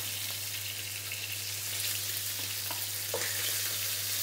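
Small hilsa fish frying in plenty of hot oil, a steady dense crackling sizzle throughout, close and moderately loud, with a constant low hum underneath and a few brief clinks near the end.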